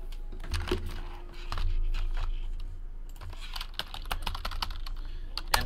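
Computer keyboard typing while baseball card hits from 2017 Leaf Metal Draft boxes are entered: a steady run of light clicking keystrokes, close by, with no talking.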